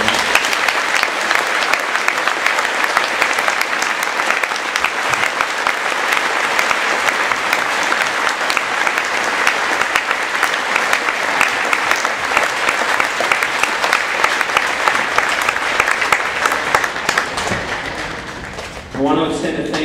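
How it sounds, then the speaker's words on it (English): Sustained applause from a large audience at a Veterans Day program, honoring the Army National Guard, loud and steady for a long stretch, tapering briefly near the end before picking up again. "join me in a round of applause for our Army National Guard"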